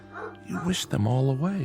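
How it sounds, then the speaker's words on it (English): A collie barks in a radio drama sound effect, giving short yips and a whimpering bark heard under and between a man's spoken line at close range. "Yep, that's the dog that always comes around."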